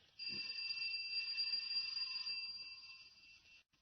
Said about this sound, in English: I'll try the bell.